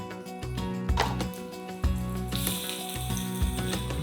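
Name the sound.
saba bananas sautéing in oil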